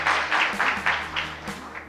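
Loud applause from an audience at a Ramayana quiz competition event, steady rippling claps in short swelling bursts, with a low hum beneath.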